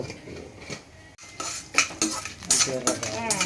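Mustard seeds, cumin, chana dal and urad dal fry in a pan under a soft sizzle while a spoon scrapes and clinks against the metal in repeated strokes, growing busier toward the end, for coconut rice prasadam.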